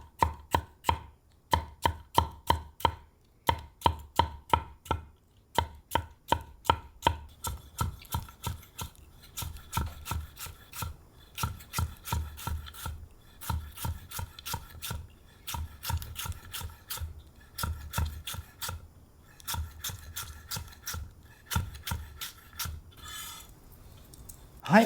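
Knife chopping on a ginkgo wood cutting board, part of a comparison of wooden boards: steady bursts of crisp, hollow knocks in quick rhythmic runs with short pauses, close and clear with no talking.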